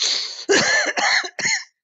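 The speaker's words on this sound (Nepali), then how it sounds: "खोकी लाग्छ मलाई त" A man coughs in three or four rough, throaty bursts separated by short pauses, close and fairly loud, ending abruptly.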